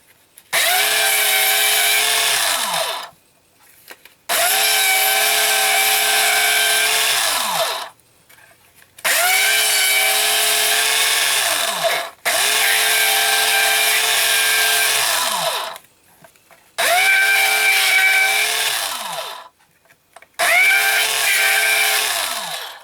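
A small Zetter paper-edging machine runs in five loud, steady motor bursts of a few seconds each, separated by short pauses, while the edges of a card are worked.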